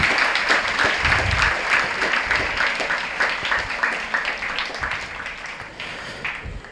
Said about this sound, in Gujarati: તાળી પાડો, તાળી પાડો